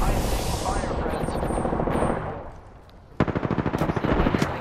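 Heavy automatic gunfire in Apex Legends, a loud continuous barrage that fades, followed by a sharp, rhythmic string of close shots near the end, with a voice speaking over parts of it.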